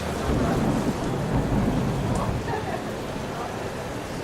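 Steady rain with rolling thunder, used as a sound effect within a pop rock song, a continuous broad wash of falling rain and low rumbles that holds fairly loud throughout and eases slightly toward the end.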